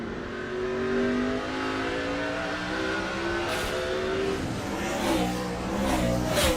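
A NASCAR stock car at the 2006 Sonoma road course, the Dodge/Save Mart 350: the engine drones steadily, rising in pitch, dropping as it shifts gears, then climbing again, with other engines roaring in the background.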